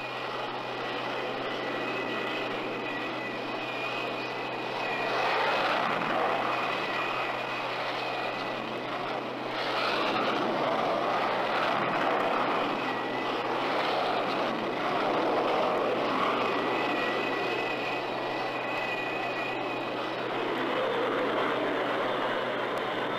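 Jet engines roar steadily during aircraft recovery on an aircraft carrier's angled flight deck, heard from the landing signal officer's platform, with a loud continuous drone that swells and eases, no talking.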